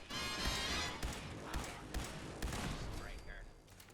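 Automated turret gunfire in Fallout 4 rattles out in quick repeated bursts and thumps over game ambience, with a player talking over it at times.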